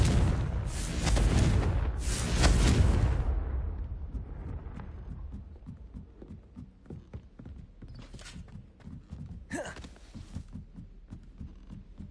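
A Confringo fire spell in the video game Hogwarts Legacy erupts in a loud, roaring blast lasting a few seconds, then fades into softer rhythmic footsteps with a couple of brief whooshes later.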